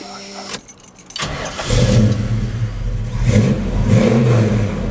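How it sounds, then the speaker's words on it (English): A 1972 Chevrolet Chevelle Sport Coupe's small-block Chevy V8, paired with a Turbo 350 automatic, cranks and fires up after a brief hush, then settles into a close, steady rumbling idle with a few revs. "That sounds great. Nice and quiet motor up front."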